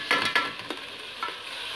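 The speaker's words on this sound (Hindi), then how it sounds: "फिर हम इसमें यह मसाला लाल मिर्च और नमक डाल" Red chili powder and salt stirred into ginger-garlic frying in a pan, brisk scraping stirs over a continuous close sizzle, with no voices.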